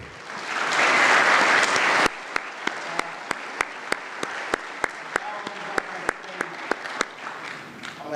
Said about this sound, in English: Ladies and gentlemen, please give a round of applause for Mr.